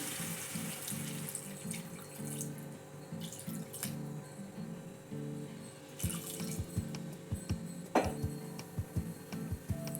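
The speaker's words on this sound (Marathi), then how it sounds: "आता यामध्ये मी एक ते दीड ग्लास पाणी टाकते" Water poured from a glass into a pot of sautéed mutton curry, a steady splashing trickle with a few drips and clinks, close up and fairly quiet, with no talking.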